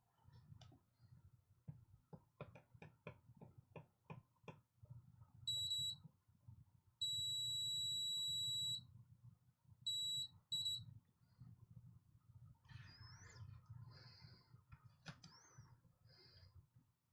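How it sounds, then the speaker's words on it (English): A soldering iron on a repair bench gives a run of sharp electronic beeps: short pulses, then a long sustained tone, then two more short bursts, over quiet clicks and handling noise from working on a Game Boy cartridge. "Soldering iron's beeping at me."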